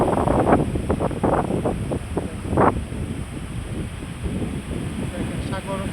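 Rough sea churns under strong gusting wind that buffets the microphone, a steady roar with some louder bursts early on, close and fairly loud.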